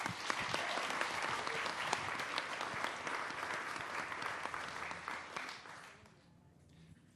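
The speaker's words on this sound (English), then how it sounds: "So, little round of applause for SPADA." Conference audience applause at the 2023 SPADA Conference in New Zealand, a steady wash of many hands clapping that holds for about six seconds and then quickly dies away.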